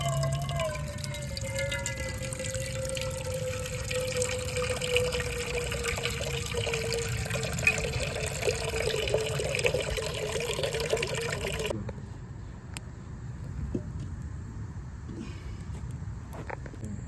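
Water pours steadily into a pot outdoors in a garden kitchen, a continuous rushing fill whose pitch rises as the vessel fills, then stops, leaving faint drips and ambient noise.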